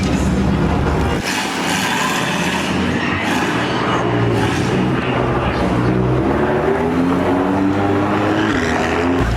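A Lamborghini Huracan Spyder engine roars loudly and continuously, its pitch climbing as it revs up close by.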